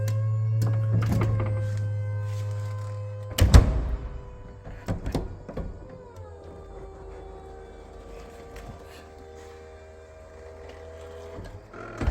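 The retractable hardtop on a BMW E93 328i convertible runs after a roof hinge cover repair, with a steady motor whine, several sharp mechanical clunks partway through, then a lower, shifting hum as the mechanism keeps moving.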